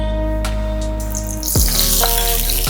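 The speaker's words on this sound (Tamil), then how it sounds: "இதில் கொஞ்சம் எண்ணெய் ஊற்றிக்கிறேன்" Oil poured onto a hot pan for adai hisses into a sudden, loud sizzle midway through, after a steady low hum, with crackling that continues to the end.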